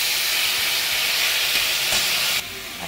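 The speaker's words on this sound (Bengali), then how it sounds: "তো এটাকে একটু ভালো করে চলো হাই ফ্লেমে ভেজে নেবো" Vegetables frying on a high flame give a loud, steady broadband hiss that holds for most of the stretch, then drops to a softer sizzle near the end.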